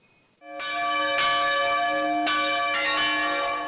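Church bells ring out in Hungary for the Trianon centenary, a loud sustained peal that swells in after a quiet start, with fresh strikes layering over ringing overtones and no voices.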